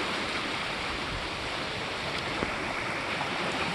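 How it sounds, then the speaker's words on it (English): Waves rolling onto the open Lake Superior shoreline make a steady, dense wash of surf that stays loud and unbroken from start to finish, with no voices. "You can see like the waves coming in."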